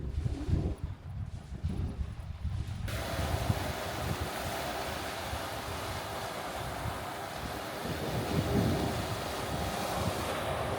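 Sea waves wash onto a rocky, tranquil beach in Cyprus, a continuous broadband surf roar mixed with gusty wind buffeting the microphone, close and steady.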